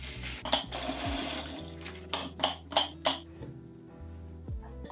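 Basmati rice poured into Ikea storage jars in a home pantry, a dry granular rattle and hiss coming in several short bursts, close and fairly loud, with quiet gaps between pours.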